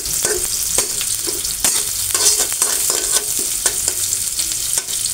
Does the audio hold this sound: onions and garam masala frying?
yes